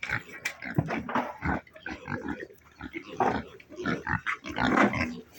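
Pigs on a farm grunt and squeal in busy, overlapping bursts, close and fairly loud, with animals rooting around in freshly dug ground.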